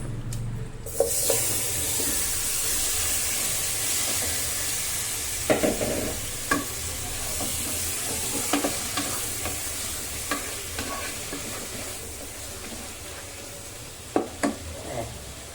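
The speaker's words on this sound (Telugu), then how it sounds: "ఆయిల్ వేడెక్కిన తర్వాత చికెన్ మొత్తం అంతా డైరెక్ట్ ఆయిల్ వేసిన తర్వాత వెంటనే చికెన్ వేసుకోవాలి." Chicken pieces go into hot oil for a simple chicken fry, a loud burst followed by a steady sizzling hiss, with occasional clicks and pops from stirring and spattering.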